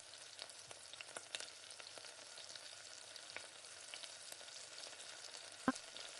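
Gram-flour pakoda fritters frying in hot oil, a steady dense sizzle with small crackles and pops throughout, close and moderately loud, with no talking.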